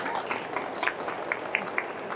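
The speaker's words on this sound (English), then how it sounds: "Everyone, give a round of applause." Crowd applause at a Nostalgia Con 2025 panel about Avatar, a steady wash of clapping from a large audience with a few sharper claps standing out, fairly distant and even throughout.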